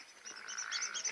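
A frog croaking in a rapid run of repeated rasping calls, close and fairly loud, with no talking over it.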